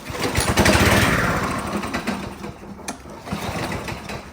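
A lawnmower engine with a plugged carburetor and a crankcase full of gasoline cranks and sputters without catching: a loud, rapid mechanical chatter that swells briefly, fades, then returns as weaker, close-up turning-over with no voices.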